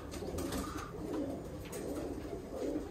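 Roller pigeons coo in an aviary, soft repeated low coos rising and falling close by, with a faint hiss of background noise.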